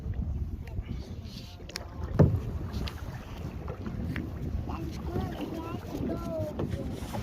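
Soft splashing and wind buffeting around a kayak on the water at Clearlake, with a brief knock partway through and voices talking over it.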